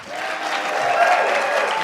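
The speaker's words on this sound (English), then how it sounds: "Everybody applaud your hero." An audience at a live event at PAX East 2018 applauds steadily, a dense and even wash of clapping with no pauses across the whole short stretch.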